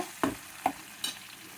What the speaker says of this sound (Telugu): ఈ కొత్తిమీర, గ్రీన్ చిల్లీ పేస్ట్ బాగా వేగాలన్నమాట